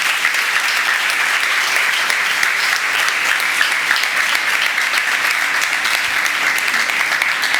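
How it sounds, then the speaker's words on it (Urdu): A church congregation bursts into loud, sustained applause that fills the space, a dense, even wash of many hands clapping at close range for the whole stretch, with no speech standing out. "ان کے لیے بھی زوردار تالیاں."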